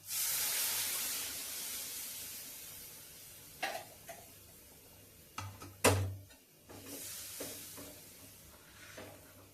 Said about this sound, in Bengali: আমি এবার গরম জল দিয়ে দেবো।